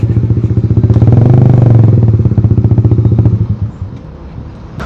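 A Honda CBR150R fitted with a Daytona GP Taper racing exhaust revving up close, a loud rapid staccato engine note swelling, holding, then dropping back to a rough idle.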